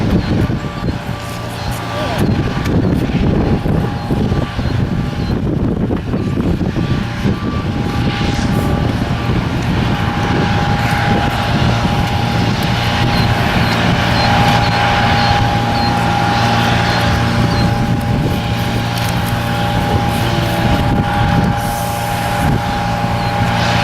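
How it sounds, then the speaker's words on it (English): An ANA Boeing 787 jet airliner roars steadily and loud throughout, a broad engine rumble with a sustained tone, heard during a Future of Flight tour with people talking over it. "We have another 787 here. I think it's an ANA jet."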